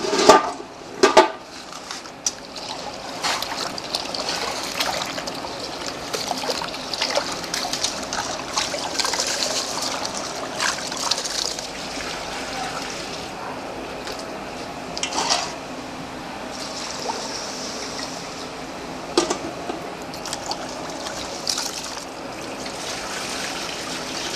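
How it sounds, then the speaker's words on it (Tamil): Rice is washed by hand in water for temple sweet pongal, giving soft sloshing and trickling with occasional sharper splashes and knocks, fairly close and continuous, without talk. "அரிசியை நல்லா நம்ம அலம்பிக்கலாம்."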